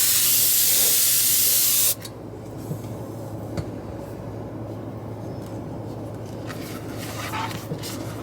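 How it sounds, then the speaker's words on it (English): A can of compressed air sprays over a MacBook Pro 16 M1 in a loud steady hiss for about two seconds, then stops, leaving a low background hum and faint handling noises. "Then normally I give it a spray with those air cans."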